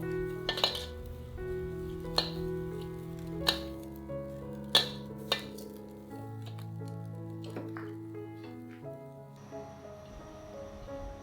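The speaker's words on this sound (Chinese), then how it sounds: "把锅烧热，不用放油，要把酸菜的水汽炒干，" Pickled sour vegetables are stir-fried in a hot dry wok with no oil; a utensil strikes the metal in several sharp, spaced clinks over a soft rustle, fairly close and quiet.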